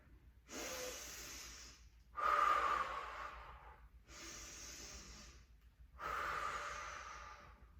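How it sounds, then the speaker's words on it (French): Slow, paced breathing during an intermediate Pilates session: four long breaths in and out, each lasting a few seconds, with airy hissing and short silent gaps between them. "Vous continuez avec ces respirations de 5 secondes à chaque fois."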